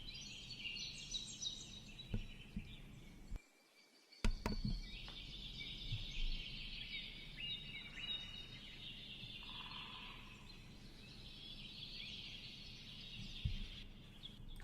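Birds in a backyard sing and chirp faintly but steadily against a soft background hiss, with repeated high calls over about fifteen seconds and a brief dropout partway through.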